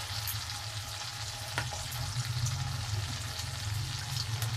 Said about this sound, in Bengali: কিন্তু পেস্টটা আমি এই তেলের মধ্যে দিয়ে দেবো